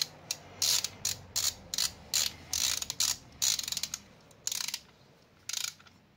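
A torque wrench tightens an injector screw on a VW Golf 6 TDI in quick bursts of sharp ratcheting clicks, close and fairly quiet, with short pauses between strokes and no voices.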